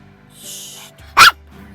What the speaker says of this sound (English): Don't bark. It's too loud.